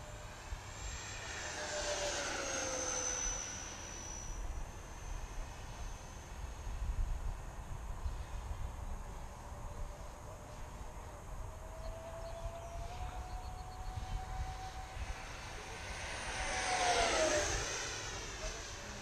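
An E-flite SU-30 RC model jet flies past at full throttle, its high whine swelling as it approaches, fading as it moves off, then roaring close again near the end, with no talk.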